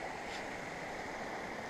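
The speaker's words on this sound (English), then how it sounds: "It's this little river. This is the River Duddon." Flowing water of the River Duddon, a small mountain river with grade 5 rapids, rushing steadily and broadband at close range with no voices.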